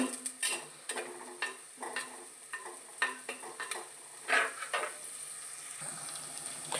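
Curry leaves and green chillies sizzle in hot oil, with faint crackling and irregular spatula scrapes and taps against the pan.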